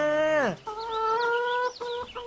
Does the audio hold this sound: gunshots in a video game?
no